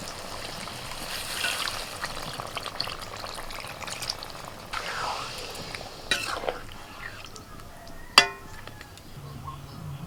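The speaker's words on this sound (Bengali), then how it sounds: "এবার আমি একটু জল দিয়ে দেব।" Water is poured into a pan of chicken cooking with cashew paste, giving a steady trickling, sizzling wash with a sharp clink near the end, heard close with no talk.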